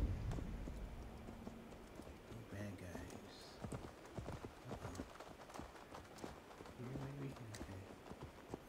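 A horse's hooves clip-clop in Assassin's Creed Valhalla, a quick, even gait heard close under steady game sounds while a person talks over it.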